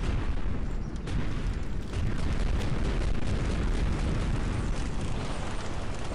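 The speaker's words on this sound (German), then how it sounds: "Dann ist das Teil anscheinend ganz oft explodiert." Explosions from the demolition video game Sprengmeister Simulator HD pile up into a dense, continuous rumbling barrage of blasts and crackling bursts, loud and sustained with no talk.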